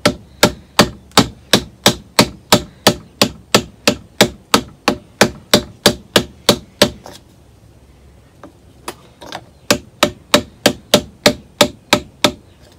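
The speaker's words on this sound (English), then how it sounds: "I'm gonna take my ball-peen hammer and I'm gonna tap that seal in" A ball-peen hammer taps a crankcase seal into a 1959 18 HP Evinrude outboard sharply and rhythmically, about twenty even strikes, a pause, then another steady run of taps, close and loud.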